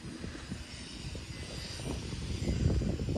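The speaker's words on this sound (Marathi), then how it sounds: "ती बघा बोट पण येते इथे" An engine rumble from a fishing boat approaching on Anjarle creek near the bridge, a steady low drone that swells gradually louder as the boat draws closer.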